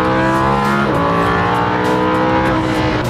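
A Lamborghini Huracan accelerating hard, its engine note loud and close, rising steadily in pitch through a gear change with a continuous roar and no talking.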